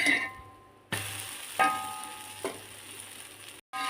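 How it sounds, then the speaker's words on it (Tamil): A wheat flour snack frying in a pan of oil gives a soft, steady sizzle, with a few sharp clicks as it is flipped to the other side, and a brief silent gap near the end. "சுற்றி எண்ணெய் ஊற்றிக்கலாம் இதுவே கட்டும் இப்போ இது ஒரு சைடு வந்துடுச்சு இன்னொரு சைடு திருப்பி போட்டுக்கலாம்"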